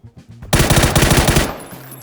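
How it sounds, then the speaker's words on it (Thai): Rapid automatic gunfire in the PUBG video game, a loud burst of closely spaced shots lasting about a second after a few faint clicks, then tapering off. "ดันยิงตัวดาวพร้อมกันแล้วเปลี่ยนกระสุนพร้อมกัน"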